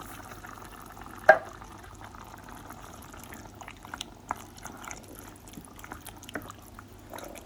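Chicken in a chopped-tomato sauce bubbles in a pan, a quiet, close simmer of soft pops and gloops with one sharper knock early on and no talk.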